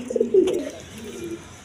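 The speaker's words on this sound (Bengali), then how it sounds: "এখানে এক পেয়ার কালারিং রাজগোল্লা কবুতর আছে" A pair of coloured Raj Golla pigeons coo close by, a low soft rolling coo rising and fading over a faint background.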